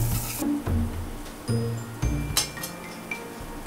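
Capsicum and chicken stirred in a metal pan, giving a few clinks and scrapes of the utensil against the pan over a low hum of cooking.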